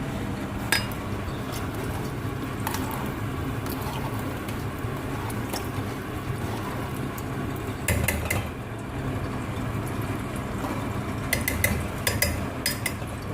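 A spoon scrapes and clinks against a metal pot while biryani is stirred and mixed, with irregular metallic taps over a steady kitchen background hum.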